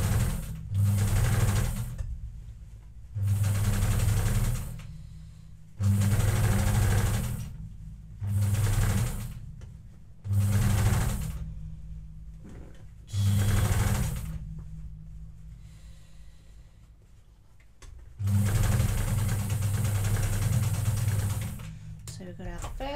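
Home sewing machine stitching a hem on kids' overalls, running in about eight bursts of steady whirring with short pauses between, close and clear, and someone talks during the pauses.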